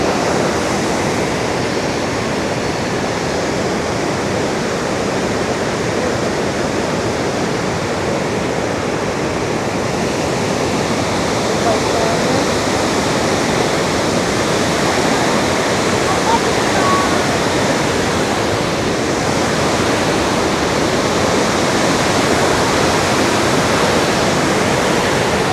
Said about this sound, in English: Top of the waterfall.